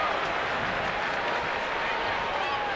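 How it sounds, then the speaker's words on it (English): A baseball stadium crowd at a Giants game keeps up a dense, continuous murmur and buzz, with scattered claps in the steady wash of noise. "Crowd's still buzzing about how the bottom of the fourth inning ended for the Giants"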